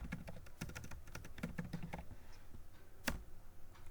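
Keys tapped on a computer keyboard while entering a bank account number into accounting software, a quick irregular run of close clicks that pauses briefly and ends with one firmer keystroke.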